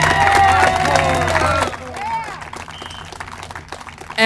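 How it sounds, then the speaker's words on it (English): Crowd at an outdoor rally at the state capitol cheers and claps loudly for a couple of seconds, with whistles and shouts over the noise, then the sound fades into scattered claps and background chatter. "I think we need a bigger round of applause than that for Kristen Iverson."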